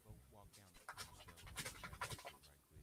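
A dog pants rapidly and audibly in steady bursts close by, with a voice mixed in.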